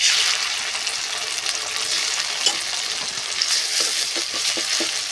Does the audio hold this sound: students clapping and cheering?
no